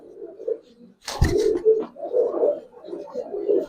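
Giribaz pigeons coo in a home loft, low throaty calls repeating nearly without pause, with one sharp thump near the start, close by.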